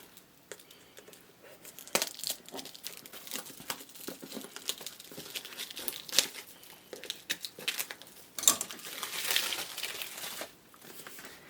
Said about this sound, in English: I'm going to unwrap it with these scissors here.